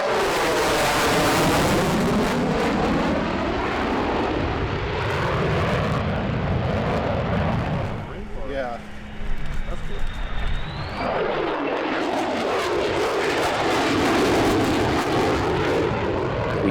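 A carrier-capable F-35C jet with large folding wings flies past at a military airshow, its loud, sustained roar rising and falling in pitch as it passes, with a brief lull midway, and commentary running over it.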